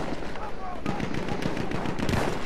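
Rapid gunfire from a shooting video game rattles steadily for the whole stretch, with bursts and loud shots layered over one another and a voice speaking underneath.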